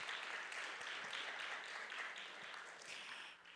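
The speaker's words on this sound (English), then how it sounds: "if you could please give Mrs. Gage a round of applause" An audience at a concert claps for Mrs. Gage, with steady, moderately faint applause from a crowd that holds throughout and then tapers slightly at the end.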